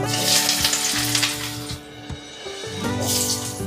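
Potatoes frying in hot oil in a wok while chicken and chola dal is being cooked, giving a steady close sizzle with brief stirring clatters and a short dip in the middle.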